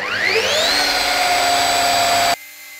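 A car polishing machine running at speed 3, about 1200 rpm, holds a loud, close, steady motor whine after a brief rising spin-up, then cuts off abruptly near the end, leaving a faint fading hum.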